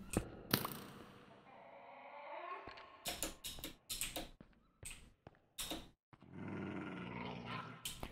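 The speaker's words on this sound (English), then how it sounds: "Dangerous dog." A dangerous dog growls in a survival video game, short gruff rumbles and snarls coming in bursts between sharp thuds and clicks, with quieter stretches between them.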